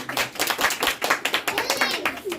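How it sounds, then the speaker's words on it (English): Clapping from a small group in a classroom-style talk, a short run of distinct, fairly close claps in an uneven rhythm rather than a thick roar. "We'll give her a round of applause."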